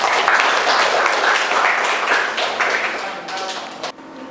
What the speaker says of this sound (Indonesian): Ya, aplaus buat kelompok 4